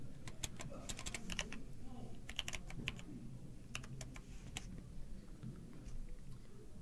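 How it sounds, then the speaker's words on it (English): Rapid computer keyboard typing in irregular bursts of sharp clicks, fairly close, over a steady low background hum with faint voices in the room. "I have to like type things."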